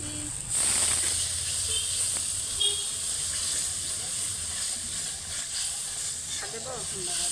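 Water tipped into a hot pan of raw onions for a Bengali fish chorchori sets off a loud, steady sizzling hiss that holds for several seconds, with faint voices in the kitchen behind it.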